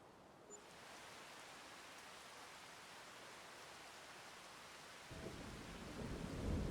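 Steady rain falls in a farming video game, a dense even hiss that swells louder toward the end with no talking.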